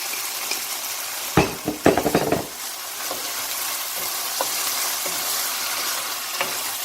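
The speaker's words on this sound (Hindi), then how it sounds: "अब इसको मज़ीद 2 मिनट के लिए और मिक्स करेंगे।" Mexican rice seasoned with salt and black pepper stirred in a hot pan, a brief cluster of spoon scrapes and clinks over a continuous sizzle, then quieter frying with occasional stirs.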